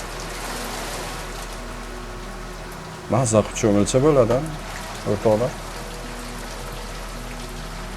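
Rain falls in Tashkent during flooding, a steady hiss with pattering drops. Someone talks briefly over it midway through, then the rain carries on alone.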